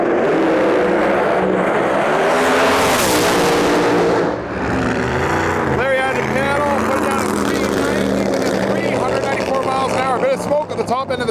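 Larry Larson's Chevy II drag car launches at a U.S. Street Nationals drag race, its engine roaring loud and steady before easing off, then rumbling and crackling on with voices in the background.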